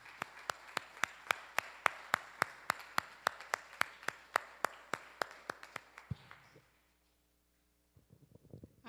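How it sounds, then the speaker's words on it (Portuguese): A church congregation claps after a sermon. The clapping is a steady, evenly spaced beat of sharp claps, like one or a few people clapping together, and it stops abruptly about two thirds of the way through, followed by faint stirring. "Então aplaude o Senhor Jesus."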